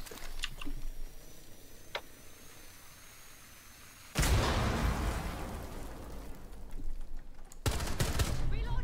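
Gunfire in Rainbow Six Siege: faint scattered shots at first, then two loud sustained bursts of rapid shooting and impacts, close and harsh, with voices talking at times.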